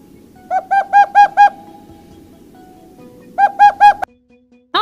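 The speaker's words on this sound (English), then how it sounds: "Ostrich." An ostrich call rings out as two bursts of four short, tonal hoots each, separated by a pause, with another call starting at the end. The calls are clear and close over a low background hum.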